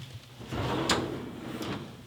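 A deep drawer on a newly painted craft room cabinet slides open with a brief rumbling glide, a sharp knock near the middle and a softer clack at the end, close and fairly quiet.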